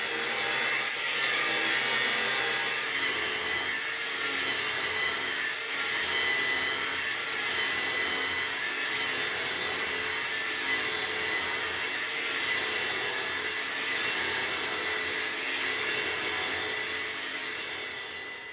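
An angle grinder cuts a long straight line at its own pace, a steady loud high-pitched whine and grinding hiss that holds continuously for nearly twenty seconds, with no talking.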